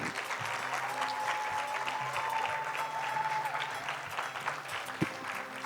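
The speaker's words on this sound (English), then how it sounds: "I want the class of 2025 to get up and give a loudest applause to your" A graduating class of 2025 stands and applauds their parents at a graduation ceremony, a dense, sustained wash of clapping from a large crowd with a faint tone and some speech mixed underneath, and one sharp knock near the end.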